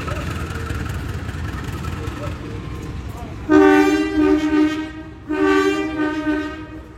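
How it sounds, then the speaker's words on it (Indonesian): A replacement diesel locomotive moving at Madiun station gives two loud, sustained horn blasts over a low engine rumble, with station ambience beneath. "yang belakang yang sedang berjalan ini lokomotif pengganti kereta api berantas"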